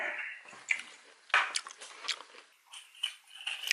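Someone biting and chewing a crunchy dried-fish snack after finishing a roll of kimbap, close-up bites and wet mastication sounds in irregular bursts with no talking.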